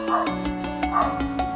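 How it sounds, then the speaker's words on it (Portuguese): A dog barks somewhere in the house behind steady game music from Adventure Quest Worlds, giving a series of short, regular yaps at moderate distance. "E o fresco do cachorro tá latindo."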